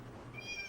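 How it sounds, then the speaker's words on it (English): A house cat lets out a single short meow, close and clear, over a quiet room. "My cat is disagreeing with me."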